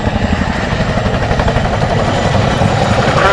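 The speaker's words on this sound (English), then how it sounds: "the best noise in the world is that bit of blade slap" Chinook helicopter at an airshow giving off a loud, steady, close rhythmic thudding of blade slap that runs without a break through the whole stretch.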